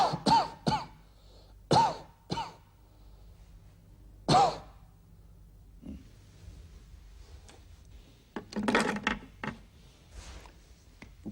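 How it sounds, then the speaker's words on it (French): A patient coughs during a doctor's examination. A few sharp, forceful coughs and throat-clearing bursts come close by, separated by quiet pauses, and a rougher cluster of coughs follows near the end. "Toussez."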